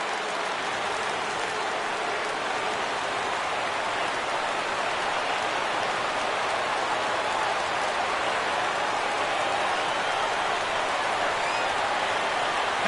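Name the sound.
crowd cheering in a baseball video game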